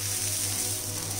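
Dosa batter frying on a soapstone griddle with a steady, close hiss, a continuous sizzle holding evenly through the brief moment with no voices.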